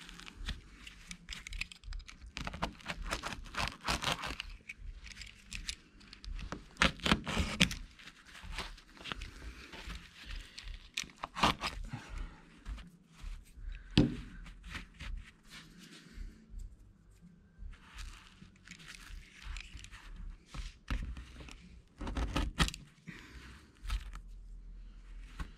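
Bursts of sharp cutting sounds as excess carpet is trimmed off a bass boat hatch lid, irregular clicks and scrapes, close and moderately quiet, with no talk.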